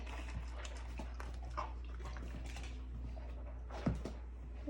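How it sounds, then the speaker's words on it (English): Dog in another part of the house, faint and distant, with soft scattered movement sounds and a brief louder yelp or whimper near the end over a steady low hum. "You can hear Ruby over in the other part of the house."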